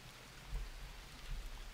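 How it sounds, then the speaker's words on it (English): Rain falling in the survival game Green Hell, a steady soft hiss of downpour with faint low rumbles, quiet and continuous with no voices. "It will not stop raining."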